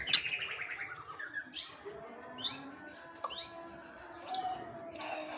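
A white-rumped shama, an untamed captive bird, gives a series of short, bright chirps and rising whistled notes, spaced irregularly and fairly faint against a quiet background.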